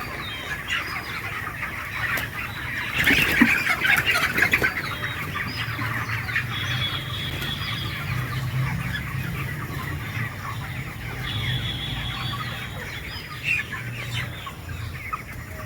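Many chickens in a poultry farm shed cluck and murmur steadily throughout, a dense flock chorus with occasional louder squawks and brief flapping.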